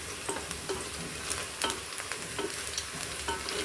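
Onions frying in oil with whole garam masala (cloves, cardamom, cinnamon, shahi jeera) for Hyderabadi bagara rice. A steady close sizzle is broken by repeated scraping stirs of a spoon in the pan.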